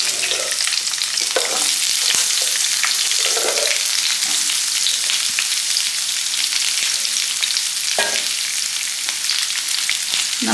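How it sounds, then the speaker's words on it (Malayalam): Bilimbi pieces fry in coconut oil in a pan, giving a constant close sizzle and crackle with occasional stirring scrapes throughout. "അതിലേക്ക് ഇരുമ്പമ്പുളി കഷ്ണാക്കിയിട്ട് ഇട്ട് കൊടുക്കുകയാണ്."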